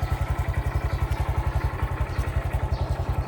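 A Honda MSX125SF motorcycle engine runs close by at a steady idle, its rapid, even low thumping pulses throbbing loudly and alone.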